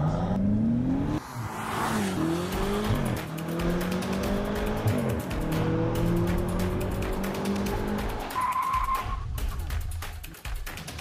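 A BMW M5 with all-wheel drive launches hard for a quarter-mile run: its engine roars loudly and climbs through several gear changes, with tire squeal near the start, sustained close and powerful for the whole stretch.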